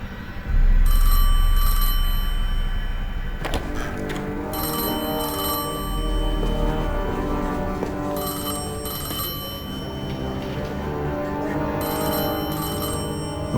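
An old telephone bell rings loudly in repeated bursts with short gaps over a droning ambient score, in the Destiny 2 video game.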